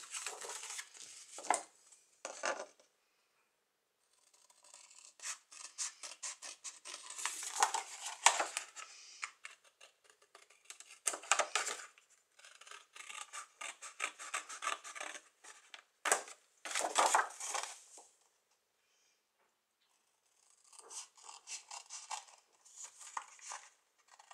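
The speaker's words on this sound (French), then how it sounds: "Et je vais découper cette partie-là." Scissors cutting a folded square of paper: clusters of quick, close snipping and rustling separated by short pauses, with no talking.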